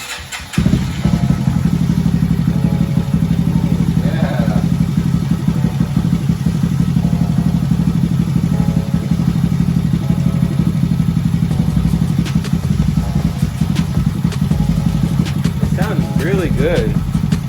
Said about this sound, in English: this is going to be its first startup, so let's see how it sounds if it does start up